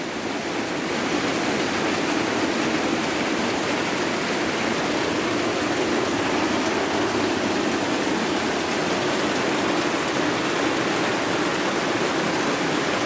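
Heavy rain and wind from an Amihan monsoon storm pour down as a dense, steady wash of noise, loud and unbroken throughout.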